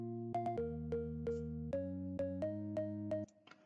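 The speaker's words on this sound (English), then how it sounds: "I've gone with this organ pattern." A house-style organ pattern programmed in FL Studio plays alone as a rhythmic sequence of sustained chord stabs, about ten hits with shifting chords, loud and close, before cutting off into a short reverb tail.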